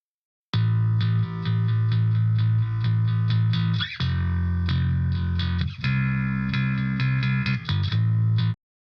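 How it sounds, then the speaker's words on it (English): A distorted bass guitar track plays solo in a rock mix, gritty and clanky with strong harmonics, little sub or low end, steady notes with a couple of brief pauses. "let's solo out this bass high track and see what we got going there"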